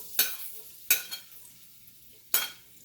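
Garlic sautés in a pan as a utensil stirs it, giving three short, sharp scraping bursts with a faint sizzle underneath in a quiet kitchen.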